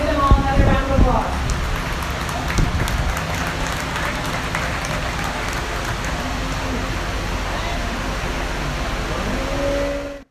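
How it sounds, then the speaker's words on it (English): Steady crowd applause fills the space at a youth beef cattle show after the Hereford steer awards, a dense, even wash of clapping that holds for about ten seconds before stopping abruptly, with a voice over it at the start. "Let's give them all another round of applause."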